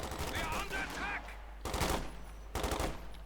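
An MG-42 machine gun fires in Company of Heroes 2 in two short rattling bursts after a moment of voice, loud and fairly close within the battle mix.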